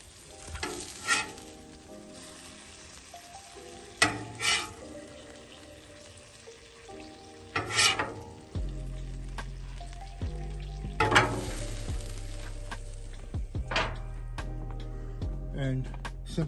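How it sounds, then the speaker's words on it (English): Cheeseburgers topped with cheese and onions sizzle on a Blackstone griddle, a low, steady frying hiss punctuated by sharp scraping and clinking of a spatula, with occasional quiet talk over it. "simple cheeseburgers done on the Blackstone griddle"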